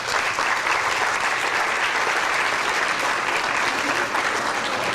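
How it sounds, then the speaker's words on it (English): An audience at an evening lecture in New Orleans breaks into loud, sustained applause, a dense wash of many hands clapping steadily throughout with no pause. "Please clap for my good friend Jamar Thrower."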